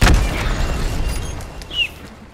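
Explosion in the Hunt: Showdown video game: a loud deep boom at the start that rumbles and decays over a couple of seconds, with a faint whine near the end.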